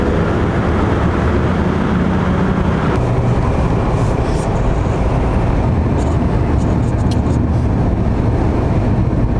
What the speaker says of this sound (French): Là, on entend le 6 cylindres là.